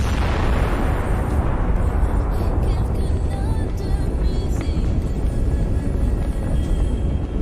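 The 125mm gun ammunition of a Russian tank cooks off after a Ukrainian drone strike, a continuous, loud, broadband roaring blast that rumbles on without a break for several seconds, with no speech.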